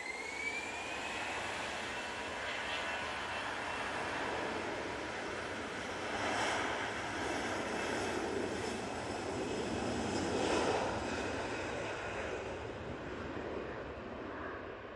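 A jet airliner takes off at Manchester Airport, bound for Pisa, its engines a steady distant roar that swells slightly mid-way and holds through the climb.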